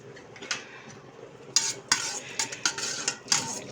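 A spoon scrapes and clinks against a metal pot in irregular strokes as a chickpea dish is stirred, getting busier and louder in the second half.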